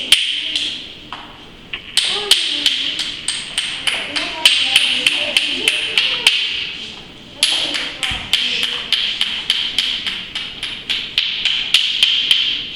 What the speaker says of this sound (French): je prends mon percuteur en pierre et je vais enlever tous les bords coupants